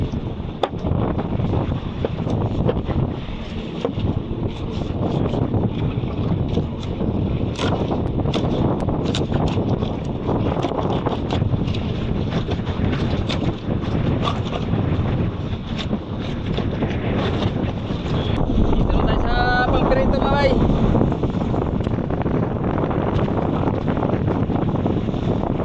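Strong wind buffets a boat out at sea, a constant roaring rush against the microphone with water sloshing underneath, holding steady for the whole stretch.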